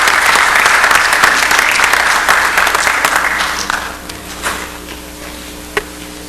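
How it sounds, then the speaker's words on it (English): A large audience at an Atlanta City Hall meeting breaks into loud, dense applause honoring the Public Works staff, which holds strong for several seconds before thinning into scattered claps and a few last isolated hand slaps. "Give them a big round of applause"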